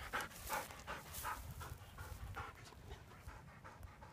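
A dog pants steadily in short rhythmic breaths, close and fairly loud, during a training session on sand, with no voices over it.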